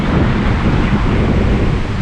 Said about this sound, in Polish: ten wiatr jest tak silny, że aż mnie znosi z jednej strony na drugą